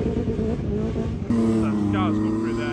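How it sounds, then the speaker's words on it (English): Drift cars entering a corner on a race track during practice, engines droning loudly and continuously, with rising revs and faint tire squeal as they pass, and people talking over it. "Cars come through there, you see as they enter"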